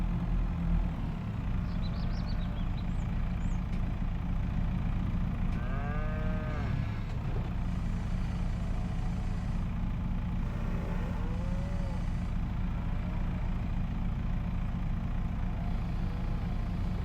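Cows mooing in Farming Simulator 25, several drawn-out moos at moderate distance over a constant low engine hum, with no talking.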